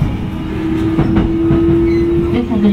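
Binaural recording from inside the carriage of the Chuo Line Holiday Rapid Okutama train running on rails: a loud, steady rumble with a sustained motor whine and faint rhythmic clatter over the track joints.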